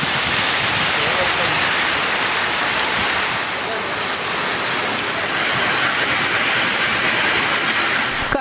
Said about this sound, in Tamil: பல்வேறு பகுதிகளில் பரவலாக கனமழை பெய்தது